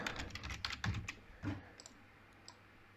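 Keys tapped on a computer keyboard while entering numbers into a Scratch program, a quick burst of close clicks that thins out to a few scattered taps.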